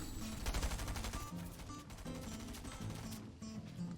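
Gunshots from a Splatoon-style competitive shooter match: a few clipped weapon blasts within steady game music and effects, a single shot, a pause to reload, then more firing, no voices.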